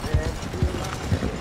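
Horse hooves clopping during a ride in the video game Red Dead Redemption 2, three heavy low thuds at a steady gallop rhythm, with someone talking over them and game ambience underneath.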